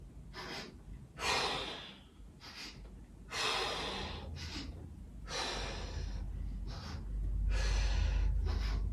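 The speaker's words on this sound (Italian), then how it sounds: "facciamo respirazione di fuoco e ci giriamo a destra e a sinistra in questo modo" Rapid breath of fire yoga breathing, sharp forceful nasal exhalations in bursts with brief pauses while the body twists side to side, close and fairly loud with no talking.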